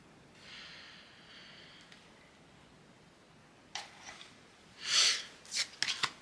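Oracle cards are shuffled close up, a soft riffle early on followed by several louder, quick bursts of card flicking near the end, with no talk.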